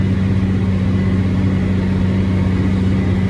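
Baler motors spin steadily while wrapping a bale, a continuous loud mechanical hum with strong low tonal drone, close and unbroken, with no talk.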